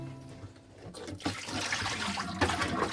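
Wash water is poured off raw turkey pieces in a kitchen, starting with a quiet trickle and then swelling into a steady, splashing gush that runs close and fairly loud until the end.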